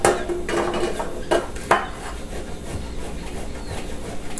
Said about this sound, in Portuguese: Vou ralar aqui.